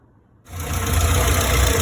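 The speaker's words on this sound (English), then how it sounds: "The engine speed immediately decreases. The mixture is too weak." A souped-up Morris Minor engine with an SU carburettor being tuned for a weak mixture starts up abruptly after near-silence, then runs on as a loud, steady, close-up idle with a dense, even drone.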